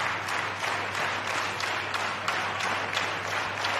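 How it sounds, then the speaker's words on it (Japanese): Sustained crowd applause fills the arena at the NOAH Kawasaki 2021 pro wrestling match between Takashi Sugiura and Masato Tanaka, a dense, even clapping roar with no one speaking. "拍手が鳴り止みません"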